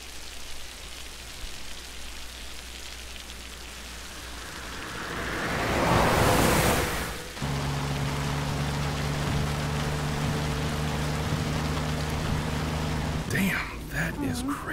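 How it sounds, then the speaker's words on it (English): Steady rain hiss from the video game Life is Strange 2 fills the scene, swelling into a louder wash midway, with a low engine-like hum underneath and a brief clatter near the end. "the rain sound effect is so cool"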